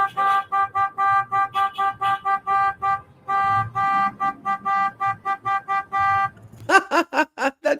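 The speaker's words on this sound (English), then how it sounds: "You can even hear cars off in the distance that are honking" Distant car horns honk over and over in quick rhythmic bursts, some held longer, ending in a rapid string of short toots.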